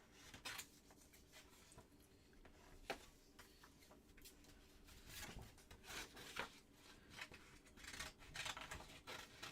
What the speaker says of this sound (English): Now you're just going to have to watch me fussy cutting paper.